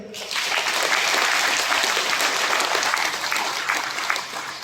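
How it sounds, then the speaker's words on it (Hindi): Loud, sustained applause from a congregation at a Christian prayer meeting of the Khunti Diocese, dense clapping filling the whole stretch without speech on top. "एक बार जोर से ताली बजा दीजिए"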